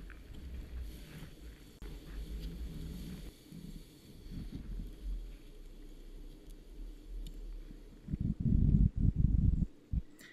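A motorboat engine rumbles steadily with low churning water while its anchor drags, then surges louder and rougher near the end as it throttles up in reverse to about 3000 RPM.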